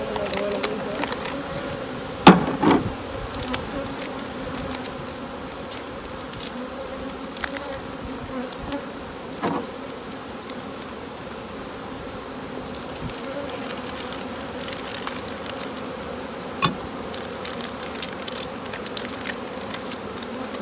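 Bees drone in a dense, steady buzz around an open beehive, with occasional close clicks and knocks from handling the hive.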